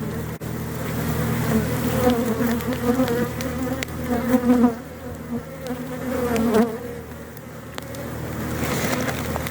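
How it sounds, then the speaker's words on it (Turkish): Agitated honeybees swarm around a hive, a dense, close, continuous buzz that swells and dips in loudness, with individual bees whining past. "Arılarda bayağı bir huysuzlanmış."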